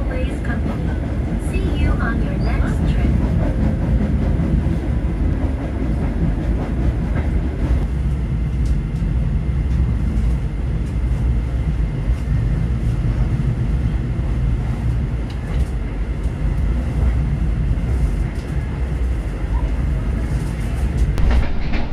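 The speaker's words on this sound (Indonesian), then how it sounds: "kereta berantas sudah meninggalkan stasiun Jatinegara" The Brantas executive passenger train rumbles in motion after leaving Jatinegara station, Jakarta, a continuous loud low roar with faint rhythmic clatter and muffled voices underneath.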